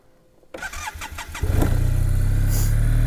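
A 2016 Arctic Cat Pantera 3000 snowmobile with a 700cc engine cranks over with several starter bursts, then catches and settles into a steady, loud, close idle.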